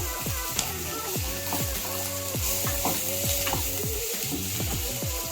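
Onion, garlic and ginger paste fry in a pan over a medium flame, sizzling steadily while a utensil stirs and scrapes in a repeated rhythm close by.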